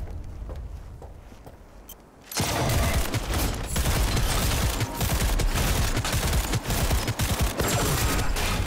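An electromagnetic gun fires in the video game Cyberpunk 2077: after a quieter stretch of game sounds, a loud, dense barrage of rapid shots and crackling impacts bursts in and keeps going.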